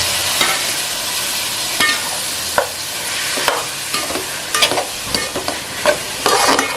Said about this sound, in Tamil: இப்போ பாருங்க, நல்லா வந்து வெங்காயம் தக்காளி நல்லா வதங்கிருச்சு.